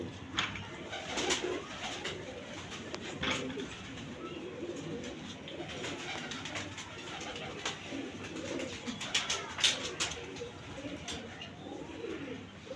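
Pigeons coo in a loft of many birds, soft repeated coos layered over sharp flutters and wing claps, with faint voices in the background.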